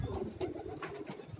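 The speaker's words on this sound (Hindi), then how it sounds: "प्योर काबली कबूतर है।" A purebred Kabuli pigeon coos softly and up close on a rooftop, giving a brief run of low, throaty, pulsing notes.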